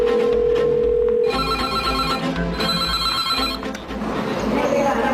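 Telephone ringing on a call to the Childline children's helpline: an electronic ring tone trills through the first second over a low hum, then gives way to a busy layered background with voices.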